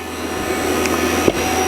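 A Fieldpiece VP85INT vacuum pump runs close by with a loud, steady whirring motor hum and airy rush, broken by a brief clunk near the end.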